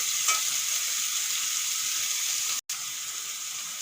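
Four green chillies dropped into a hot pan with shrimp, frying with a steady, close hiss and sizzle that briefly cuts out near the end before resuming, with no voices.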